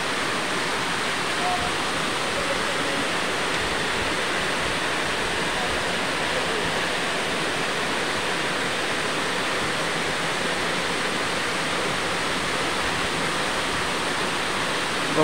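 Water rushes down from a high reservoir in hilly country in Balasore district, a steady broadband roar like a waterfall that holds unbroken and fairly loud throughout, with no distinct voices rising above it.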